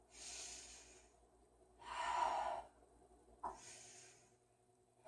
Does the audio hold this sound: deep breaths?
yes